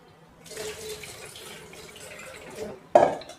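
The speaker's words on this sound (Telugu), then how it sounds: "ఈ పప్పు ఇలా వాటర్ వేసి శుభ్రంగా కడుక్కుందాం అండి." Water runs and sloshes while roasted lentils are washed in a bowl, a steady gurgling wash that ends with a sharper splash as the water is tipped or stirred.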